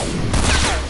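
Burst of gunfire in a shooting video game, a short dense volley of shots that swells briefly and fades within a second, loud and close.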